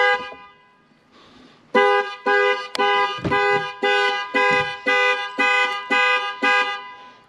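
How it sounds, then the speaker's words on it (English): Jeep Gladiator hood alarm sounding: after a quiet start with faint low rumble, a loud pulsing horn-like tone repeats roughly ten times in steady even beats, close and clear with no talk. "and there's that hood alarm. I don't know why it went off, but there it is."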